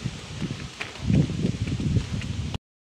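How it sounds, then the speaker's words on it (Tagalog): Wind gusts buffet the microphone with a low, rumbling roar and some rustling, then cut off abruptly. "Hangin guys, oh, nililipad yung sombrero ko."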